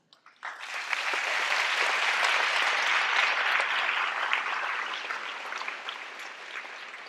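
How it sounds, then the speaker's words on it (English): An audience at an Earth Day event with author Barbara Kingsolver bursts into applause. The warm, dense clapping swells quickly, holds steadily, then slowly thins, heard from within the room with no talking. "they really deserve some applause"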